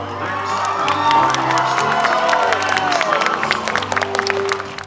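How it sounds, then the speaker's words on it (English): A theater audience bursts into loud applause and cheering, with whoops and scattered claps building and holding close for several seconds. "the audience just erupts into applause"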